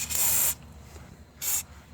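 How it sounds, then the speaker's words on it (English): Two short hissing bursts of an aerosol can spraying white lithium grease onto a CV axle on a 2008–2013 Nissan Rogue, close by with a quiet pause between them. "We're going to spray white lithium."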